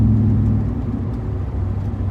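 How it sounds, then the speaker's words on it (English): A car engine drones loudly while driving, a steady low rumble and whir heard from inside the cabin, continuous throughout. "the car with the engine, and it's loud"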